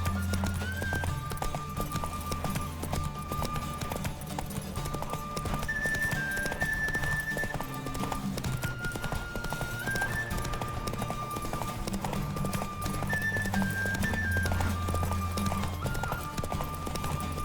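In The Witcher 3 horse race gameplay, steady clip-clop of galloping hooves runs throughout under a busy backdrop, with occasional whinnies and a few brief voices mixed in.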